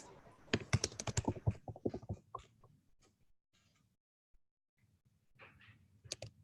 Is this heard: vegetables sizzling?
no